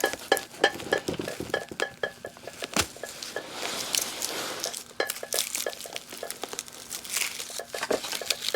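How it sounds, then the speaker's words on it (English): A blade slices between amaryllis bulbs, with crinkly scraping, crunching and rustling of roots and soil in irregular close bursts, some sharper snaps among them. "So I'm just going to try to slice in between the plants here, or the bulbs."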